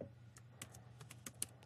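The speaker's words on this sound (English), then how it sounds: "So double click on it, type in snare" Computer keyboard typing in music production software, about eight crisp separate keystrokes in quick uneven rhythm, close and clear above a faint low hum, no talking.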